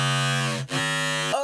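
A synth stab made in Serum, its pitch gently wobbled by a subtle LFO, plays as a bright, harmonically rich sustained chord that briefly dips mid-way and then cuts off cleanly, with no talking.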